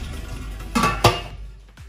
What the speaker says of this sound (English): So I'll cover this pot and cook it for 15 good minutes